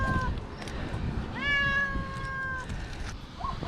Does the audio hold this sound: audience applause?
no